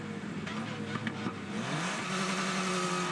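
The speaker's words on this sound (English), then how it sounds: "Bit of a burnout there, trying to generate some heat." Formula 4 race car at Queensland Raceway revving hard in a tyre-warming burnout, a loud continuous engine roar that rises in pitch midway and holds steady, close and alone.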